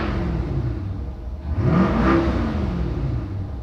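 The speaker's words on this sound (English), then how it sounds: "Let me end the video with some revving." A C8 sports car engine idles, then revs sharply once, rising and falling before settling back to a steady rumble, close and fairly loud.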